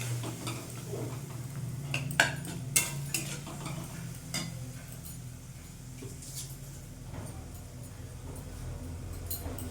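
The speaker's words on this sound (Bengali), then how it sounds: "সব মশলা ভালো করে আমি মিশিয়ে নেব।" A spoon scrapes and clinks against a pan as turmeric, cumin and coriander powder are mixed in, giving a few sharp metallic taps over a soft, steady sizzle.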